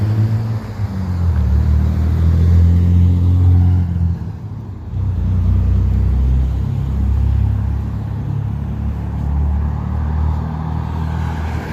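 Fast cars on a street in Carson, Los Angeles, a loud, continuous traffic rumble with engines surging past up close and a brief dip midway.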